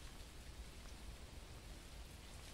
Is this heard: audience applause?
no